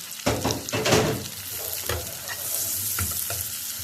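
Kunafa pastry stirred and fried in a pan, giving a steady close sizzle with scraping stirring strokes throughout and no talking.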